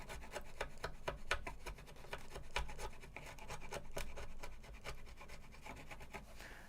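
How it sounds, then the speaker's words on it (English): A tool scrapes lightly across a wood finish in quick, rhythmic rasping strokes, close and quiet, with no voices. "Just trying to very lightly scrape that without taking anything off."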